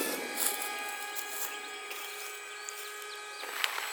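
A Daddy Drones MIG-530 2.4G remote control airplane flies with its electric motor giving a steady, thin, high whine at moderate distance, holding an even pitch throughout over faint outdoor background noise.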